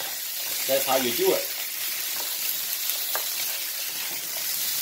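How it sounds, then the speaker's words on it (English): Beef for an Asian-style stir-fry sizzles steadily in a pan. A brief spoken remark comes near the start, then an even, close sizzle with light stirring continues. "Let the beef cook."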